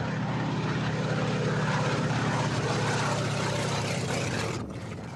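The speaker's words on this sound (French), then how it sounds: "Des avions américains des années 50 épandent à chaque vol une solution" A 1950s American propeller airplane drones loudly overhead while spraying mosquito larvicide, its engine a steady throbbing roar that holds for several seconds before dipping slightly as it passes.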